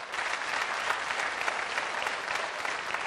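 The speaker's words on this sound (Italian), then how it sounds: "grazie per questo applauso che ci permette sempre di entrare col sorriso sulle labbra" Dense studio audience applause fills an Italian TV variety show set, a steady, close wash of many hands clapping that holds at full strength throughout with no talk over it.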